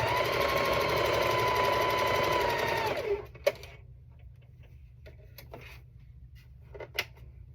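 A sewing machine stitches quilt pieces with right sides together, a fast, even mechanical whir for about three seconds that then stops, followed by a few faint clicks and handling taps.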